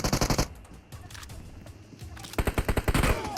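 Bursts of automatic gunfire in PUBG Mobile, a loud rapid volley opening the moment, a quieter gap with scattered single shots, then another close, rapid burst of shots.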